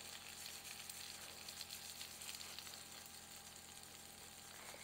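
Mexican cornbread batter pressed into a hot 10-inch cast-iron skillet, producing a faint but steady hissing sizzle that continues evenly throughout.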